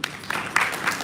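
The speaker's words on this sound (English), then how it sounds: "And please clap for them." A breakfast event audience gives a short burst of scattered applause for the sponsors, steady and moderately loud for about a second.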